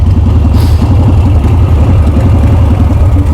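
A Sportster bobber motorcycle engine running with a rough, steady low rumble and rapid pulsing firing beats throughout, loud and close, with no talk over it.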